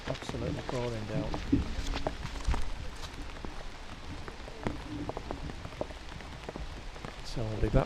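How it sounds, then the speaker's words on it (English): At a cricket ground, rain pours down in a thick, constant patter, close and steady, while someone talks over it at moments. "You can see it absolutely pouring down."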